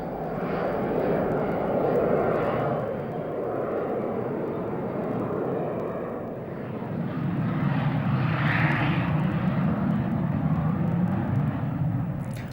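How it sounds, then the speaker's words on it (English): A de Havilland DH-125 executive jet, a six to eight-seat business aircraft, flies past with a broad, steady roaring engine noise that swells and eases, moderately loud with no speech. "the DH-125 was a 6 to 8-seater and was the first executive jet"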